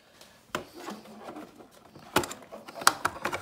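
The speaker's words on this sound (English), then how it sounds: "So first thing we're gonna do is remove the tray to get to the screws to remove the front panel." Plastic water dispenser tray being pulled out of a Kenmore/Whirlpool side-by-side refrigerator door, with a few close scraping rubs and sharp plastic clicks and knocks spread over a few seconds.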